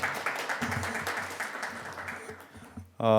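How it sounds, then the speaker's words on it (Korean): A room of attendees at a policy forum on digital therapeutics gives sustained, dense applause that fades slightly near the end, where a voice begins to speak. "수고해 주신 세 분에게 다시 큰 박수 좀 부탁드리겠습니다"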